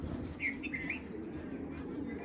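Giribaj pigeons make soft, low cooing and a few brief chirps close by, over a steady background hum with no voices.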